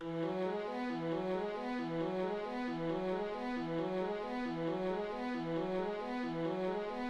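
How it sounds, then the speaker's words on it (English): Synth pattern in FL Studio that climbs upward in a tight, super repetitive loop of short notes, even and moderately loud throughout, with no talking. "which is basically this upward ascending super repetitive pattern."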